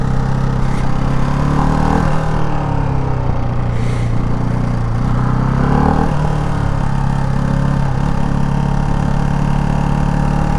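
A 2024 Ducati Hypermotard 698 RVE single-cylinder motorcycle engine drones steadily in second gear, loud and close throughout with slight rises and dips in revs, with no talking.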